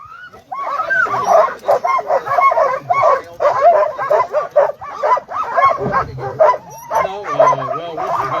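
An excited sled dog team at the start of the Copper Basin 300 race in Alaska barks, yips and whines loudly and continuously up close, with voices talking underneath.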